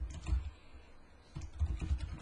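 Someone types on a cheap computer keyboard, standing in for a broken mechanical one, while writing code. The keystrokes come as soft, muffled thumps in two short bursts, faint and close, with no talking.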